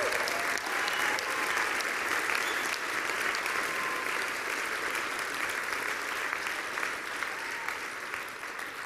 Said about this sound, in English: Give Matthew another round of applause.